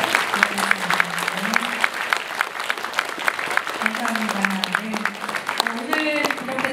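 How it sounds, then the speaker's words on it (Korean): Audience applause for two guest speakers at a Gyeongsangnam-do mental health day ceremony, steady dense clapping throughout with a voice talking over it. "오늘 정신질환에 대한 또 시야를 넓혀주신 오동훈, 허기영 간사님 두 분께 큰 박수 다시 한번 드립니다"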